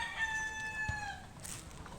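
A single fighting rooster crow rings out briefly, fairly faint and a little distant, ending with quiet background noise.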